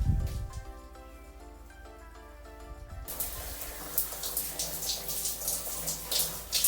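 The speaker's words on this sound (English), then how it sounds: "I swear my hair takes long to really soak in water." Water runs from a tap to soak thick 4C hair on wash day, starting quietly and then turning into a loud, close splashing gush that keeps going until the end.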